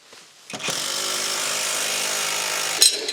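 An impact driver fitted with a socket runs in one sustained, loud hammering burst for a few seconds, tightening a fastener on a metal wall shelf bracket, close up with a short rattle at the end and no talking.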